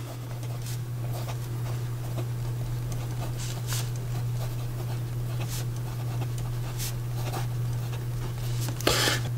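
A calligraphy pen with a 0.8 nib from a cork calligraphy set writing a sample on paper, soft scratchy strokes that come in short repeated bursts over a steady low background hum.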